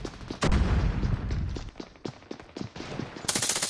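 Gunfire in the mobile shooter Scarfall 2.0 during a team deathmatch, with loud rapid bursts of shots, a heavy blast near the start and another burst at the end.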